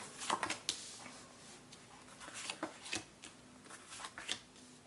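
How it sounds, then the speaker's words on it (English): A deck of cards being shuffled in close, crisp riffling bursts, repeated several times with short pauses between them. "We could just shuffle all day long with this deck."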